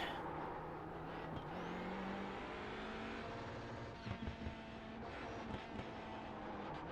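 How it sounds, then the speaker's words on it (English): Race car engine at Winton Motor Raceway droning steadily with a shifting pitch as the driver downshifts through a corner, with a few brief louder bursts of revving from the engine near the end. "Downshift into second, downshift into first."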